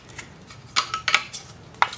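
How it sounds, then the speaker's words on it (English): Small brush scraping leftover dirt out of a plastic robot vacuum dustbin, several short, bright scratching strokes in quick succession, close and clear with no talk. "I'll use the brush just to scrape out what's left here."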